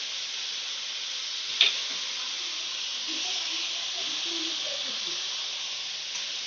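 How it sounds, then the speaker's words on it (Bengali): Chopped onions with a pinch of salt frying in a pan toward golden brown, giving a steady soft hissing sizzle throughout, with one brief click near the start. "পেঁয়াজটা আমি গোল্ডেন ব্রাউন করে ভেজে নেব"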